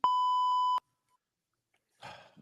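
A loud, steady electronic bleep cuts in twice in quick succession, then silence, followed by a brief faint rustle.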